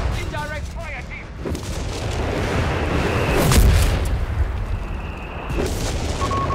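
Artillery fire in the Company of Heroes 3 war game: deep rumbling booms and blasts build to a heavy explosion near the middle, over dense battlefield noise, with brief game chimes and beeps layered on top.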